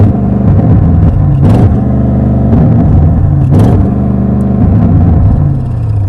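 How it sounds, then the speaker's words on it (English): An Audi RS 7 with sports exhaust is revved while stationary against its soft limiter, producing a loud, close, droning engine note with a few brief rev surges that quickly fall back. "you're going to rev it at traffic lights, only when you try to do that, it's not as good as you expect"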